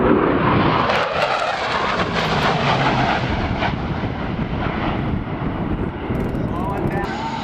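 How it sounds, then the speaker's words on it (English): A carrier jet doing a touch and go at the NAS Oceana airshow in 2005 gives a loud, steady roar that holds throughout, heard from the crowd with a commentator talking over it. "Slowing down. Touch and go coming. He's going to go on around."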